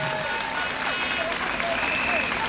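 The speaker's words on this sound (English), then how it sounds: "can we have a huge round of applause for Camp Beagle" A crowd at a running event's speeches gives a brief, busy round of applause for Camp Beagle, with scattered whistles and voices mixed into the clapping.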